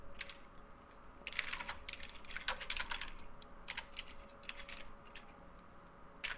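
Rapid keystrokes patter on a computer keyboard in quick irregular bursts, fairly close and moderately soft, with short pauses between runs of clicks and no voice over them.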